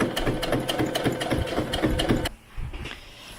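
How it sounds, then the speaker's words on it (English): A sewing machine stitches along a seam on a doll top, a close rapid rhythmic clatter that runs for about two seconds and cuts off, followed by quieter handling. "And then I'm going to sew along that seam."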